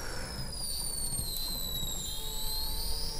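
A small brushless electric motor on a Castle Creations Cobra 10A speed controller spins up with a high whining pitch that slides down and settles, steady and close, with a faint crackling hiss underneath.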